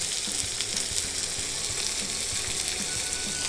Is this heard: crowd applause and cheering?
no